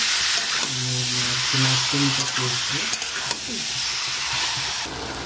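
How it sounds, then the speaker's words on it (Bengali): Marinated chicken dropped into hot oil, a loud close sizzle and hiss with stirring clatter and scraping, briefly steaming, and no clear speech. "এটা আমি এবার দিয়ে দেবো তেলের মধ্যে"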